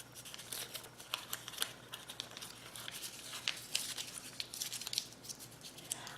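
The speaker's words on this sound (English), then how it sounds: "I might even crumple it up a little bit." Paper ephemera crumpled by hand, a close, dry crackling and crinkling with irregular sharp rustles running throughout at a modest level.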